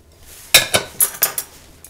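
Vegetables being mixed with olive oil in a baking dish, five or six sharp clinks and scrapes of a utensil against the dish in quick, irregular succession, close and alone.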